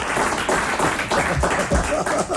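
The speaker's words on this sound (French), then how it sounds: "vous pouvez applaudir parce que c'est formidable de savoir ça" Studio audience applause on a French radio talk show, a dense steady wash of clapping filling the whole stretch at moderate loudness.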